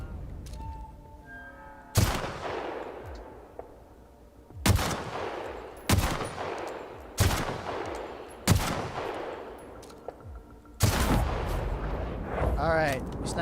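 Six heavy gunshots from The Outer Worlds ring out one by one at irregular intervals, each a loud booming crack with a long echoing decay, set against faint background ambience.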